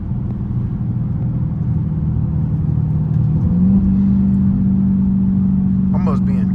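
A catless Dodge Hellcat drives with a loud, close, droning engine rumble, its pitch stepping up around a gear shift midway, and a voice speaks briefly near the end.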